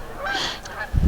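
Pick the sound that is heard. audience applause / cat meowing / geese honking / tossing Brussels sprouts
geese honking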